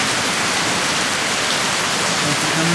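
Heavy rain pours down steadily on a street and puddled pathway, a loud, dense, unbroken hiss of drops close by with no pauses.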